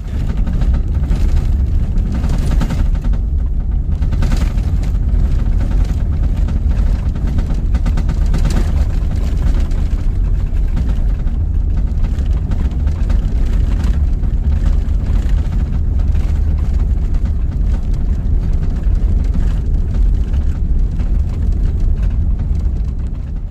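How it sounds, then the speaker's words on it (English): A towed 1952 Diamond T wrecker rolls on smooth pavement on its egg-shaped tires, giving a loud, steady low road-and-engine rumble that runs without a break and without voices. "you didn't know how egg-shaped those tires were, but here on the smooth pavement, you can really tell they're kind of thumping"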